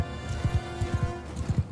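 Cavalry horse hooves clop in quick irregular pairs during a battle in Mount and Blade II: Bannerlord, a steady rhythmic galloping beat over low background noise.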